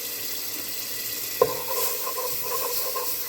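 Cajun seasoning and crab boil are stirred into a seafood gumbo, with a continuous soft sizzle and a single sharp clink of a utensil partway through, followed by gentle stirring.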